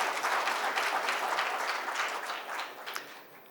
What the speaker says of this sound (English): I would like the audience to give a big round of applause to Christian.